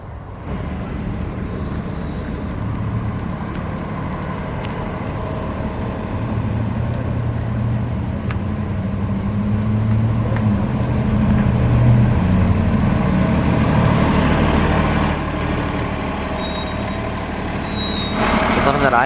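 A SLO Transit Route 9S city bus idles and rumbles nearby with a low engine drone and a hiss of air brakes, heard steadily throughout with a faint high beeping near the end.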